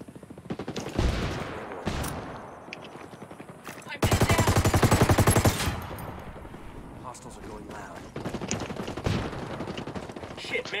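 Gunfire in Ghost Recon Wildlands crackles in repeated rapid automatic bursts, loud and close, with a long sustained volley in the middle and scattered shots after, under a few voices talking.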